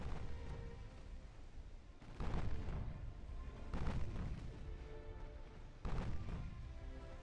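Naval gunfire and shell hits in Ultimate Admiral Dreadnoughts, a 1930s warship battle game, land as three heavy booms spaced a couple of seconds apart over a low, continuous rumble, faint and distant.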